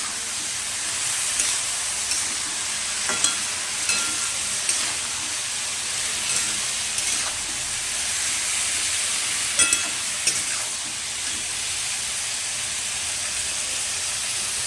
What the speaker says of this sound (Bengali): এবার আমি ভালোভাবে নাড়াবো